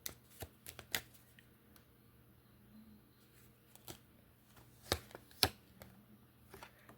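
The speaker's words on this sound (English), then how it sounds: "We're going to take that. We're going to shuffle again." A deck of cards being shuffled in a quiet room, with scattered sharp riffles and taps spaced irregularly over several seconds at low volume.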